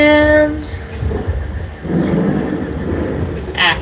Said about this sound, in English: We already have those thunder and lightning effects going.